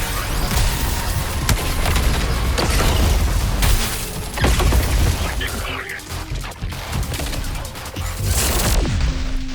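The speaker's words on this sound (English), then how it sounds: "Energy weapon firing!" Energy weapons fire in the Suicide Squad: Kill the Justice League video game amid a dense, loud battle mix of rapid bursts, booms and mechanical clatter, with game voices talking over the action.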